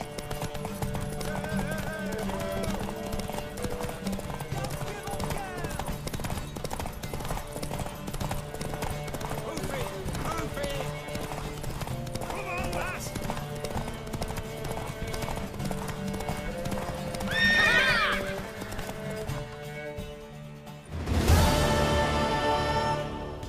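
Steady hoofbeats clip-clop throughout with a horse whinny near the end, over a continuous musical background, in the video game The Witcher 3: Wild Hunt.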